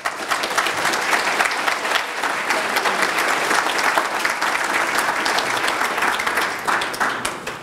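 Sustained applause from a conference audience welcoming a speaker, steady dense clapping from a full room filling the whole stretch before gradually thinning slightly toward the end.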